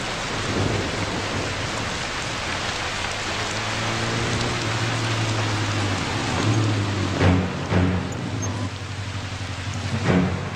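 Steady heavy rain pours down with a broad hiss, while a low rumble of thunder rolls underneath and brief louder spatters come near the end.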